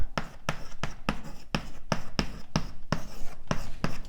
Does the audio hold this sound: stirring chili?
no